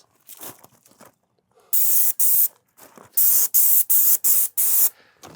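Airless paint sprayer coating a house exterior, several sharp bursts of loud hissing spray, some short and some held about half a second, separated by quiet gaps and faint handling noises.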